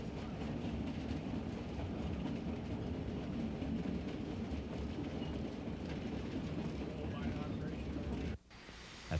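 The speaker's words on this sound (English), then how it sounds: "The passenger experience begins with a steam engine ride through the town." A steam train on a narrow-gauge railway in Skagway, Alaska rumbles along the rails with a steady clatter of wheels, loud and continuous, then abruptly cuts off near the end.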